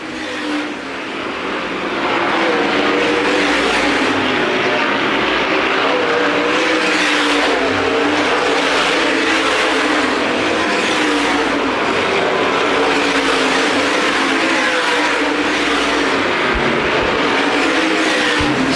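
USA Modified race cars at Winchester Speedway roar past together in a loud, sustained engine drone that swells as the pack passes and holds steady with shifting pitches for the whole stretch.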